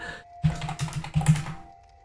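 Quick bursts of computer keyboard typing enter a name in a game, two short clusters of clattering keystrokes close up over a faint steady tone.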